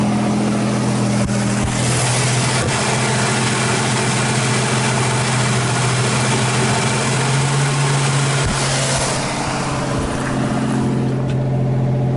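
A freshly rebuilt 1986 Buick Grand National engine idles steadily at its first startup, a loud continuous rumble with a low droning hum that holds for the whole stretch and carries no talk.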